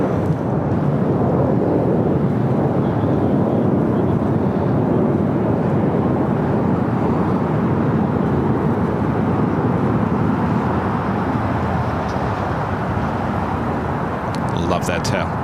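Airliner rolling for takeoff from runway 25 right at LAX, a steady, loud broadband jet roar filling the whole stretch without letup, with faint radio voices in the background.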